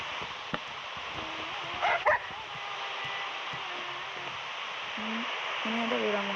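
Dogs yip and whimper in short, sporadic bursts against a steady background hiss. The sounds are fairly close and come in brief calls with gaps, and a voice is heard faintly now and then.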